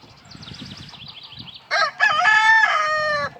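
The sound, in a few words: rooster crowing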